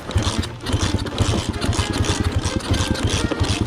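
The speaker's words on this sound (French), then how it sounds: "le kickage intensif" A motorcycle engine sputters and chugs in rough, uneven bursts as a faulty motorcycle is repeatedly kick-started, catching briefly, loud and close.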